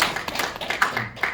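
A seminar audience on bioethics gives brief, scattered clapping in a short, uneven burst of individual claps.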